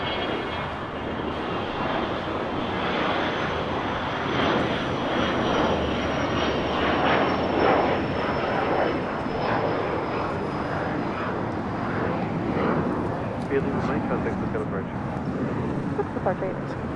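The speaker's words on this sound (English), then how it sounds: "Air China, the 777, now pushing back" Air China Boeing 777, flight 988 to Beijing, pushing back at LAX, with a steady broadband jet engine roar and a faint high whine running throughout, fairly loud and continuous, with some background talk.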